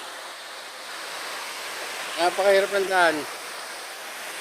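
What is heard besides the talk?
waterfall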